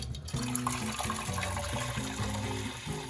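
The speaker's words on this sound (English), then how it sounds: "I'm just gonna pour hot water in them" Hot water pours into pots set inside a freezer during a deep clean, a steady splashing, gurgling stream with a low tonal hum underneath, no talking.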